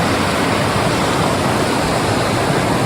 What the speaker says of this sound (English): interesting river crossing.